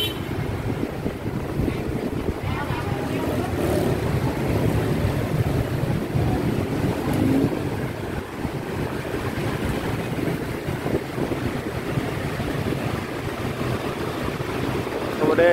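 Bạch Đằng Harbor river in Saigon with boat traffic, a continuous low rumble of water and engine-like drone mixed with wind buffeting the microphone, steady throughout with no clear speech.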